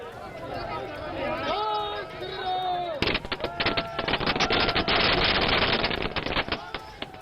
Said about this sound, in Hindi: बीजेपी मुख्यालय के बाहर ये जश्न का माहौल है और आतिशबाजी हो रही है